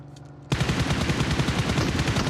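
Rapid automatic gunfire from the PUBG Mobile battle royale on the Erangel map, part of a league esports match. It bursts in loud and keeps going as a steady, dense stream of shots.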